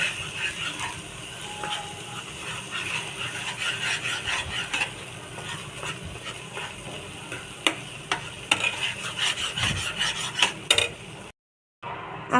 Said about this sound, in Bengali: এবারে সব মিলিয়ে এটাকে একটু ফ্রাই করতে হবে।